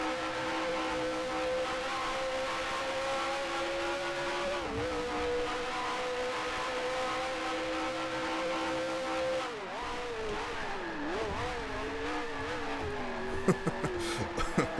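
A vintage Formula One car in the Grand Prix Legends racing game holds a steady, loud engine drone, then drops pitch as it brakes and downshifts for a turn at Monza, with a few blips near the end.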